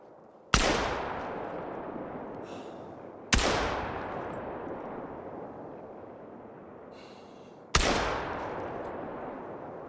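Three loud, separate blasts from a Strandberg 10SA Executive shotgun firing buckshot in theHunter: Call of the Wild, each a sharp crack followed by a long, rolling echo that fades over a few seconds, with no voices.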